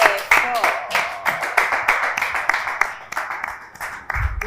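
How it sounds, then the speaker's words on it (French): A studio audience applauds on a talk show, a dense run of claps from a modest crowd fading slightly, with a voice talking over it and a low thump at the end. "Ça s'applaudit très, très, très fort."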